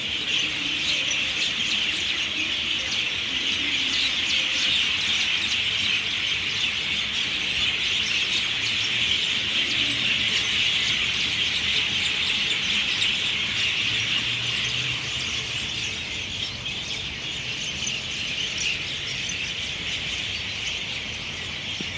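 Small unseen birds chirp steadily from the trees in Kokand, Uzbekistan, a dense, continuous high twittering that runs unbroken throughout, with no talk over it.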